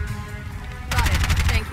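A gunfire barrage in Bright Memory: Infinite, a rapid burst of loud repeated shots that starts abruptly over a steady ambient hum and rattles on for under a second.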